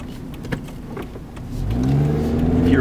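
A Scion iQ engine hums through a sharp turn at about 40 mph, then the revs climb in a rising whine as the small car accelerates out, close and fairly loud.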